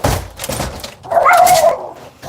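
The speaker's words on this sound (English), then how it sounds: "Our lovely dog is just being really hyper and annoying at the moment." A hyperactive pet dog vocalizes in a short burst of whiny, yelping barks near the microphone, with a sustained tonal whimper in the middle and rustling noise around it.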